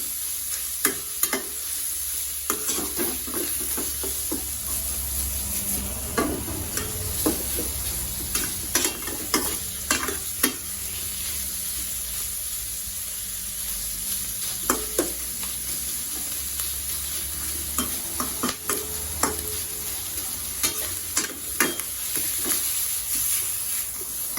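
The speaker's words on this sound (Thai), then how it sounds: "ผัดไปเรื่อยรอหมูสุกก่อน" Pork sizzles in a hot pan for basil pork fried rice with a fried egg, under a steady frying hiss with repeated scrapes and clacks of stirring, close up and with no talking.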